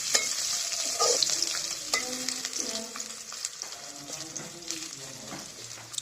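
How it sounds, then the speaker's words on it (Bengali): Cumin, green chilli and onion frying in hot oil crackle and hiss close up, with spatula stirs and scrapes over the continuous sizzle. "কাঁচামরিচ, পেঁয়াজ দিয়ে এগুলো একটু লাল লাল করে ভেজে নেব।"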